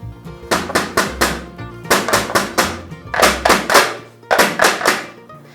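A cocoa-filled mould is tapped firmly against a hard surface to drive out air bubbles, giving a steady run of close, loud knocks in quick bursts of several taps each, with no talk.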